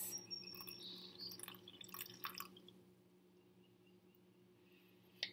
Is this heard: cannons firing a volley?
no